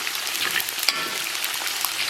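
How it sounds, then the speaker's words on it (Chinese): Spices and aromatics, including scallion, ginger, garlic, star anise, cinnamon bark, bay leaves, sand ginger, dried tangerine peel, fennel seed, white pepper and tsaoko, stir-fried in moderately hot oil in a wok, giving a steady close sizzle with light clicks of stirring. "简单给它煸炒一下。"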